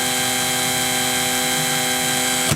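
A power drill spinning a wobbly, off-centre bit gives a steady, loud whine with strong harmonic tones, running continuously until it cuts off abruptly near the end.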